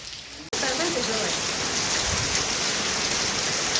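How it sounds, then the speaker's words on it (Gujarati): Heavy monsoon rain pours down in a dense, loud, steady hiss that starts abruptly and continues unbroken, close by and with no talk over it. "વરસાદ હારામાં હારો છે"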